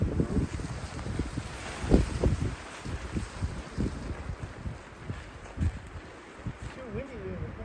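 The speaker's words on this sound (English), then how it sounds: "It's too windy there." Strong wind gusts buffet the microphone at a frigid winter hot-tent camp, a rough low rumble that surges and eases throughout, with indistinct voices in the background.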